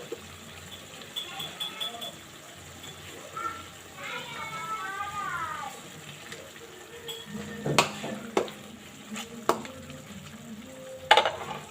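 Pork adobo with oyster sauce sizzling and frying in a pan as vinegar goes in, with stirring and a few sharp utensil knocks against the pan while a person talks over it.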